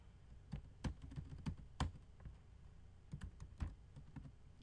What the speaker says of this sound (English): Go ahead and type this command in.